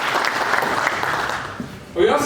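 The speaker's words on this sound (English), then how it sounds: "Clap for me also." Applause from the audience at a science and technology institute's graduation ceremony, a steady moderate patter lasting about two seconds, then a louder burst of voices and sound at the end.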